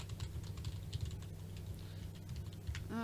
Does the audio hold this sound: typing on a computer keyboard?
yes